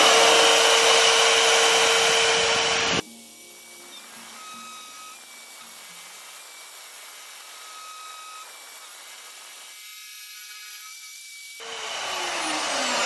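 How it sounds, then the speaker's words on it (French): Magnetic drill with a core bit cutting holes in a garage workshop, a loud steady motor whine at start and end framing a quieter stretch of faint, even grinding hum. "ça perce vraiment bien. Ça fait un mini carottage en fait."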